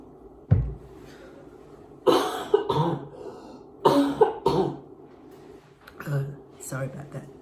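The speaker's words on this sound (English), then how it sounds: "And I need to cough again." Several harsh coughs come in clusters, close and loud, with quieter breathy sounds between them and no clear speech.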